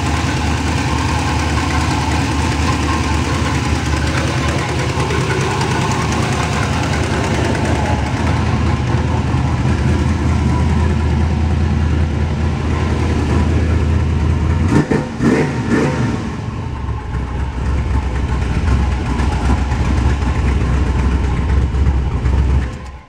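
A 1977 Chrysler Cordoba with its all-original 400 V8 runs steadily and loud and close, a deep idle rumble with a brief dip in the middle before the engine note settles back to an even throb.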